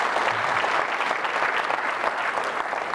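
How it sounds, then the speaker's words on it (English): Sustained applause from a fall convocation audience honoring student success coordinators, many hands clapping at a steady, full level for the whole stretch. "clap for them."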